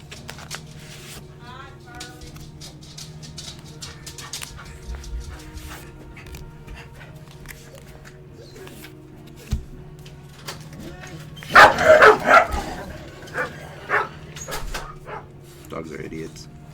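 Dogs barking in the video game Final Fantasy XVI, a cluster of sharp barks and yips around the middle of the clip over steady game ambience, with a few scattered yelps after.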